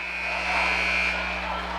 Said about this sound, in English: Second buzzer sounds, and Schultz will inbound it.